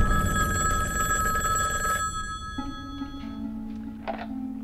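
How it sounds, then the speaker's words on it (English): A telephone bell rings loudly and continuously for about two seconds, then stops, leaving a quieter electronic hum and faint room sounds. "It all began with a phone call."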